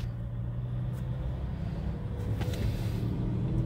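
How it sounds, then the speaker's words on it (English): A semi-truck swings through a tight left turn nearby, its engine a steady low rumble that swells slightly toward the end of the turn. "We got a semi-truck here taking a massively sharp left turn."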